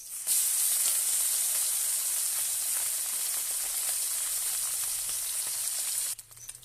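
Loud, steady sizzling of small puti fish frying in hot oil, a dense crackling hiss that runs continuously before cutting off abruptly near the end.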